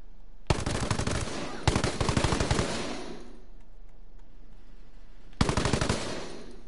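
Video game gunfire rings out in three loud, rapid automatic bursts: a short burst, a longer rattling one, then another after a pause of near quiet.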